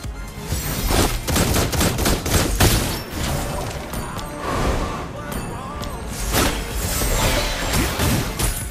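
Granger's gunfire in the Mobile Legends video game, dense rapid volleys of shots with booms and whooshes continuing loudly throughout alongside game effects.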